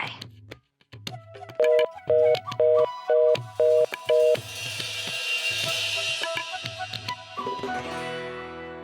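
A telephone number is dialed on a landline-style phone indoors, producing six short, loud, evenly spaced keypad tones followed by a muffled line noise, with no speech over the dialing.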